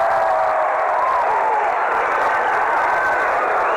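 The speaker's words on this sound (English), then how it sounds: "Got the roar from the crowd as some of the lights have gone back on" Stadium crowd at a baseball game roaring steadily as the lights come back on after a blackout, a dense sustained cheer of many voices with no clear talk on top.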